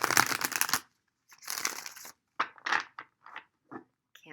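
Tarot cards being shuffled by hand in several short bursts of dense riffling and crackling, separated by brief silences, close and clear, with no voice.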